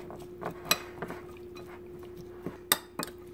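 Lime juice mixture being stirred in a bowl for breakfast nachos with steak and eggs: scattered soft clinks and scrapes of a utensil against the bowl, a few sharper taps, fairly close and quiet, with no talking.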